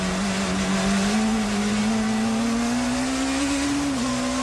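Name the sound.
touring race cars, Peugeot and BMW, racing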